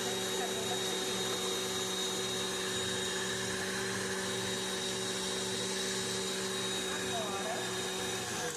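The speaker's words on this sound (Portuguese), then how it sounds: "sempre vocês param de bater e limpam a lateral da batedeira de vocês" A stand mixer beating cookie dough hums steadily and continuously throughout, a loud, even motor whir with faint mechanical rumble and no pauses.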